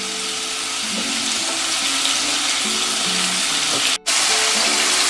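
Sausage for Cajun dirty rice fries in a pan over medium-high heat, giving a steady, close sizzling hiss that runs evenly throughout, broken only by a split-second dropout near the end.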